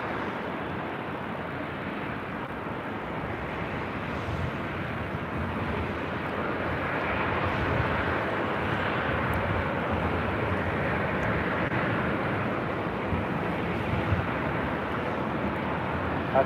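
Alaska Airlines Boeing 737-800 jet at LAX bound for Seattle, a continuous even engine rumble and hiss that swells slightly midway and stays steady, with no talking.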